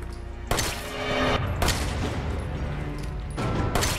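Gunshots in Resident Evil 7 video game, three loud close blasts spaced about a second or more apart, each with a long booming tail.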